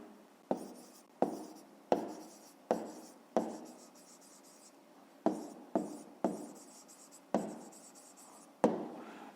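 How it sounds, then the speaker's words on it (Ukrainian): Pen strokes writing an answer by hand for a fifth-grade math exercise, a series of about a dozen short scratchy bursts with brief pauses between, close and fairly quiet. "записуємо тоді відповідь, пишемо відповідь"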